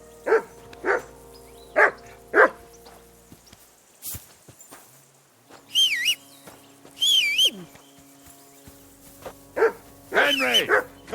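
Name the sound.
dog barking in video game Kingdom Come Deliverance 2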